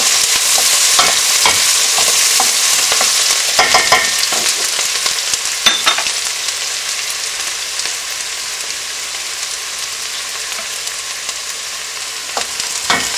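Onions with fresh garlic and ginger sauté in a pot, a loud, steady sizzling hiss broken by repeated spoon scrapes and stirring knocks, close up with no talking.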